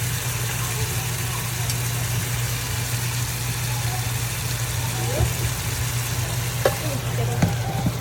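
Pomfret frying in a pan with tomato, spring onion, radish, chilli, turmeric and salt, a steady low sizzle throughout with a hum beneath and a few faint clinks near the end.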